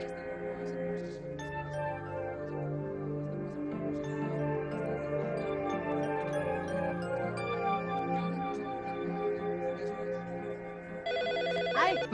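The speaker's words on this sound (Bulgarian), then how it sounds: "Сигурно е Анибал, само той звъни по това време." Telephone ringing in a home during a Spanish-language soap opera, a repeated electronic ring with steady tones lasting over several seconds, loud and close, with other faint sounds in the room.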